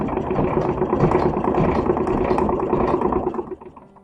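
A fast machine sewing the long seams of an 1860s-style man's shirt, a loud, steady mechanical whirring hum with light rattle that runs unbroken and then drops off near the end.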